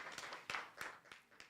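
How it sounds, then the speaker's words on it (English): A small audience clapping for a panelist at a regional policy dialogue, with scattered, uneven claps sounding faint and distant in the hall. "A round of applause as he makes his way."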